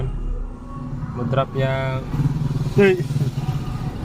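A Honda EFI motorcycle engine idles close by with a steady low thrum, its revs rising and dipping unevenly while someone talks over it.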